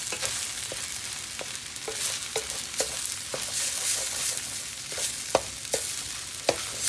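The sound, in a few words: stirring fried rice in a pan with a wooden spoon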